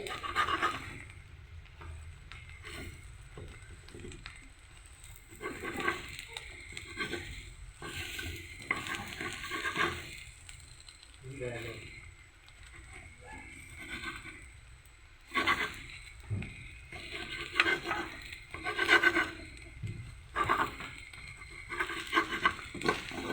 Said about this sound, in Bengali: আমি ডিমটা ভেজে দেখাচ্ছি